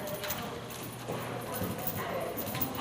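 Horse hooves cantering on a riding arena during a Tennessee Walking Horse riding lesson, soft rhythmic thuds under an instructor's talk and background noise.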